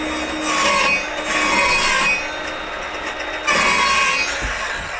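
Hand file rasping along the edge of a wooden door to take down a slight bow, in repeated broad scraping strokes of near, steady loudness with brief pauses between passes.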